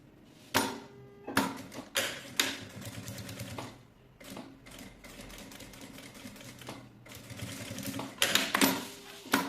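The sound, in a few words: sewing machine topstitching a zipper on a bag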